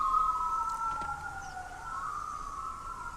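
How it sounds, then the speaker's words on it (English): A siren in the video game Sphere 3 Enchanted World holds a steady, fairly loud electronic wail that dips in pitch and then climbs back over a soft background rumble. "Siren."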